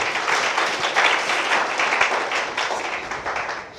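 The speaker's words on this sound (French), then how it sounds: "Okay, applaudissez pour les pasteurs." Audience applauding for pastors at a youth church forum in Lubumbashi, a thick, continuous wash of many hands clapping, loud and steady throughout the few seconds with no one speaking.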